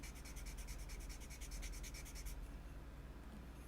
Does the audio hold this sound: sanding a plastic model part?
yes